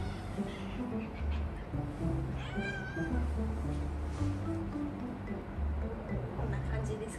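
A house cat meows while being lifted and held, protesting because it dislikes being picked up; a short, clear, rising meow cuts through steady nearby talk indoors.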